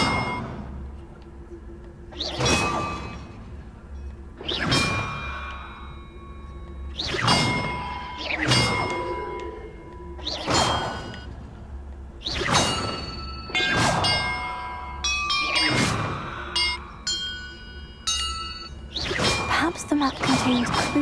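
Bells rung one at a time in a Hogwarts Legacy puzzle, about nine bright clanging strikes spaced a couple of seconds apart, each ringing out and fading, with faster overlapping strikes near the end.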